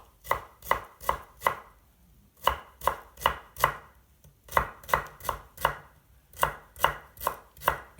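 A knife chopping carrots into tiny brunoise cubes on a cutting board: crisp, evenly paced strikes in short groups separated by brief pauses, close and clear with no talking.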